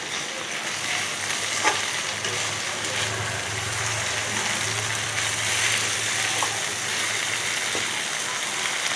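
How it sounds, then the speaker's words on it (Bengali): Spice paste fries and is stirred in a pan for a prawn and bottle gourd curry, giving a steady soft sizzle with occasional light scrapes over a low background hum. "ভালো করে নেড়ে কষিয়ে নিচ্ছি মশলাটা।"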